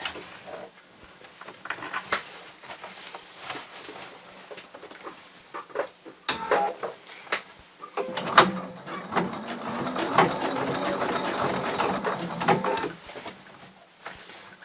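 A sewing machine runs in a steady, moderately loud stretch of stitching over seam binding on a small round pouch, preceded by scattered handling clicks and taps.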